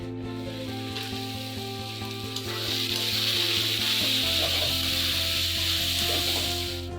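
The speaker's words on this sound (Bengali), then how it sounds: "ডালটা একটু ভালো করে ভেজে নিচ্ছি।" Spices and masoor lentils sizzle steadily as they fry in a pan, a close, continuous hiss with faint stirring scrapes throughout.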